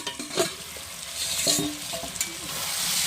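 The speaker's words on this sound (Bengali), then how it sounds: "ঢাকনাটা খুলে একটু নাড়াচাড়া করবো।" Chicken and potato curry being stirred in an uncovered pot, close spoon scrapes and clinks against metal over a gentle bubbling sizzle, no speech.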